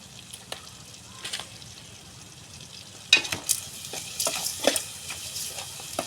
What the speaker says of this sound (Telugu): బాగా అయితే తిప్పేసుకున్నాం.